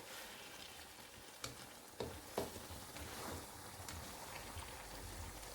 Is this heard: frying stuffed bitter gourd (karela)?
yes